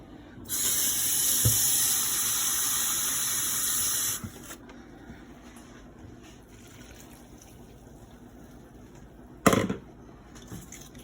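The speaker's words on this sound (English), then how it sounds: "Okay, I'm gonna add some water." Kitchen tap running water in a steady hiss for about four seconds before shutting off, followed by quiet room tone and a brief clatter near the end.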